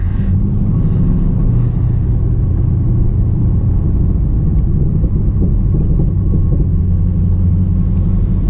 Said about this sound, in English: I love the Harley motorcycles.